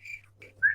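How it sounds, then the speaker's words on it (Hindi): A person whistles a few quick, short notes, thin and fairly faint, with the last note rising louder. "किसी ने मुझे सीटी मारी?"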